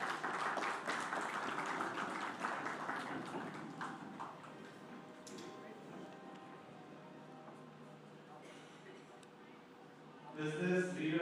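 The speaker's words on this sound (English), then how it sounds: "Give a big round of applause." Audience applause at an awards ceremony comes in strong at the start, then thins out after a few seconds into quieter hall ambience, with a brief louder burst of sound near the end.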